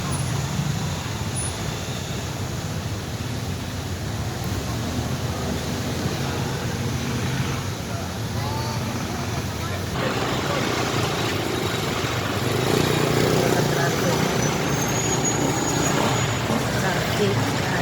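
Roadway traffic noise, with trucks and cars rumbling past, forms a steady, fairly loud wash of engine drone that swells slightly toward the end, with some indistinct voices mixed in.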